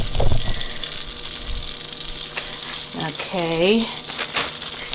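Breaded chicken strips fry in butter in a hot skillet with a steady close hiss and crackle, while a voice speaks briefly over the sizzle.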